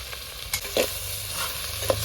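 Chicken frying in oil with crushed ginger and garlic for a country chicken curry, stirred in a few scraping strokes over a steady sizzle, close and fairly quiet, with no talking.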